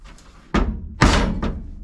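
A hammer strikes a rusted metal floor pan on a C10 truck, three loud heavy blows with ringing metallic decay, spaced roughly half a second apart, with no talking.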